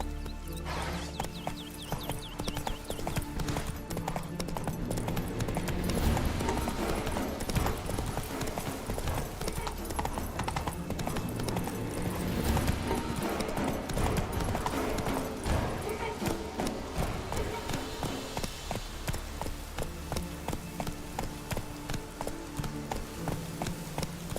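Roach, the horse in The Witcher 3, gallops in a steady, rapid clip-clop of hooves that runs unbroken and fairly close throughout, with a few faint voices under the rhythm.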